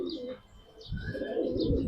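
Kalsira pigeon cooing close by, soft low coos rising over a couple of seconds alongside faint higher chirps from other birds.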